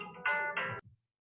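A mobile phone rings with a short melodic ringtone, a couple of bright tonal bursts that stop abruptly after under a second, alone with no talk.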